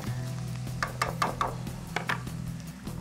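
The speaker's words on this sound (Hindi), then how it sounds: "यहाँ पर जो है हम गाजरों को प्याज के साथ डाल के फ्राई करेंगे" Carrots and onions fry in a pan with a steady close sizzle, broken by a few sharp scrapes and knocks of stirring, with no voices.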